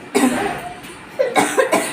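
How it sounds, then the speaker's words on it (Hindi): A person coughs a few times in two quick, raspy bursts, close up and fairly loud. "आप लोग को बताते बताते हमारे खांसी आ जा रहा है।"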